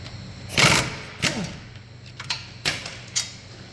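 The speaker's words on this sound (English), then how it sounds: "So there's two 17mm bolts that you gotta remove up here and then one on the bottom." Socket wrench working the 17mm caliper bolts on a 2005 Honda Civic coupe during a front wheel bearing job: several short metallic clicks and clanks at close range in a quiet garage, spaced irregularly.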